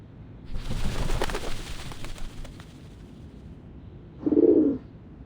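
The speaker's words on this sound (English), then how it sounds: "The doves of the Whitestone House are here." Doves of the Whitestone House in Reverse 1999 give a short, soft coo, heard after a loud rumbling burst dies away.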